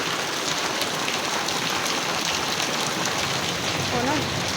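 Heavy rain pours down steadily in a village at Idar, a dense, unbroken hiss of drops striking surfaces nearby, with a faint voice briefly audible near the end.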